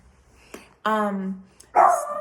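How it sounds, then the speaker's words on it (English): A dog barks indoors, close to the microphone, with two loud, sustained barks separated by a short pause. "that's my dog."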